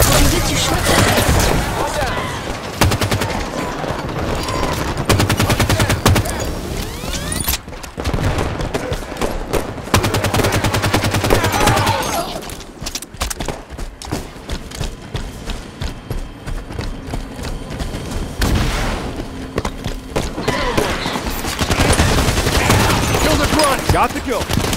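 Rapid gunfire from Covenant enemies in Halo 5 Firefight on the ARC map, dense bursts and booming shots crackling almost nonstop over a low rumble of game action, loud and close throughout with a brief lull midway.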